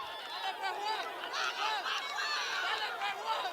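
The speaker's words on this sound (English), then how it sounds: "judging by the crowd noise and the intensified crowd noise" A football stadium crowd roars near the end of a Nicaraguan league match between ART Jalapa and Real Estelí, a steady, dense wash of cheering and babble that holds loud and unbroken throughout.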